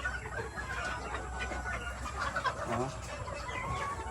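A bantam hen clucks softly inside a coop, low murmuring calls amid quiet background rustle, fairly faint and close.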